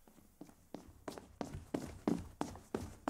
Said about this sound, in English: from the other side of the door, I heard a busy sound of footsteps